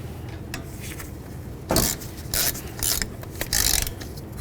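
A ratchet tightens the brake caliper slider bolts on a Dodge Journey during a front wheel bearing and hub replacement, giving four short bursts of metallic clicking over a steady hum of shop noise.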